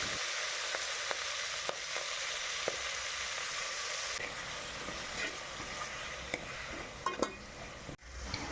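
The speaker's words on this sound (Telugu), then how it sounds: "మళ్ళీ అదే కడాయిలో మన పాలకూరని కూడా మంచిగా ఫ్రై చేసుకోవాలి" Spinach (palak) frying in a kadai gives a steady close sizzle, with occasional stirring clinks and scrapes scattered through it and a sharper knock near the end.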